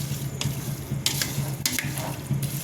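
Cherry pieces and sugar stirred in a pan, with a steady low hum of heat beneath repeated scrapes and spoon strokes against the metal.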